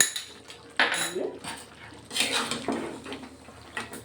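Chicken curry gets stirred in a pan with ghee, a spoon scraping and clinking against the metal in irregular close strokes, fairly quiet.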